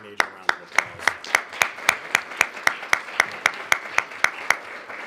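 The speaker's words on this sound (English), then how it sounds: "That in and of itself deserves a major round of applause." At a board of education meeting, a small audience claps in a steady rhythmic beat, about four sharp, evenly spaced claps per second, standing out clearly over a soft room background.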